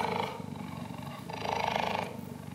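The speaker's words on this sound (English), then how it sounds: "Cheetahs purr, you guys." A cheetah makes a low, rumbling purr in two long rolling bursts, close and fairly quiet.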